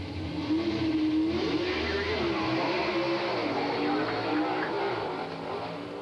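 A 1981 Chevy Camaro Pro Star car at drag races: a loud, sustained engine roar that slightly wavers in pitch as it moves down the strip, fading a little at the end.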